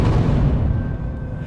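A demon seal buried in a cult leader's heart bursts in a deep, loud boom with heavy low rumble that swells at once and then slowly fades over a second and a half.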